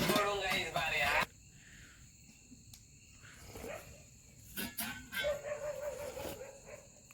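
A dog yips and barks a few times at a distance, short scattered calls over a faint background, with a voice speaking briefly at the start.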